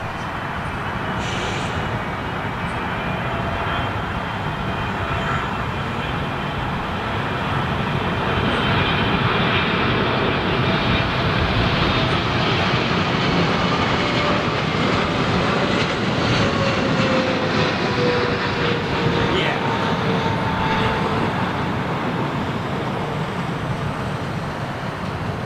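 Air Canada Boeing 777 jet flying near London Heathrow Airport, a steady, loud engine roar and rushing drone that swells slightly and holds for the whole stretch, with no talking over it.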